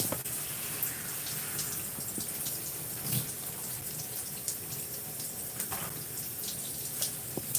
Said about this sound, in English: Rinsing it out.